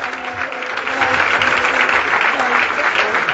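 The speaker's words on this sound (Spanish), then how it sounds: "Dele palmas a Cristo" A church congregation at a lively worship service claps for Christ, making a steady, dense wash of many hands at close range that builds slightly and holds for a few seconds.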